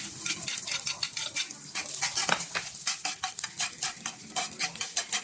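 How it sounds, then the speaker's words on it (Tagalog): Onion and vegetables stir-fry in oil in a pan, a steady close sizzle broken by repeated scraping and clinking of a utensil against the pan, with no talking. "Igisa lang natin ng konti yung gulay."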